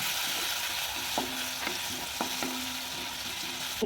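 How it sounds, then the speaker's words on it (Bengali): Chopped garlic fries in a wok until golden, the oil's steady sizzle running throughout while a utensil scrapes and taps the pan at irregular moments, with no talking. "রসুন কুচিটা আমি লাল লাল করে নেবো।"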